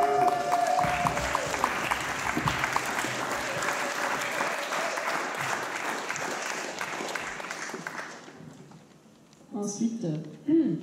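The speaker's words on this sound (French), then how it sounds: "on peut l'applaudir." Audience applause at a live show at La Cartoucherie, a sustained wash of clapping with crowd voices, fading out near the end before a voice starts speaking.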